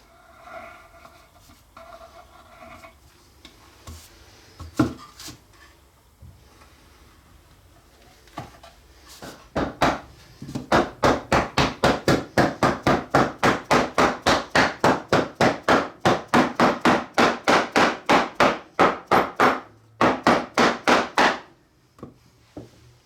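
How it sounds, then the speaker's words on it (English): A glued wooden base is tapped into place in a wooden glue caddy box. After a few scattered knocks, a long, steady run of fast, close hollow wooden taps follows, then the tapping stops. No talking. "I'm going to go ahead and apply a little bit of glue around this edge out here and tap this base into place."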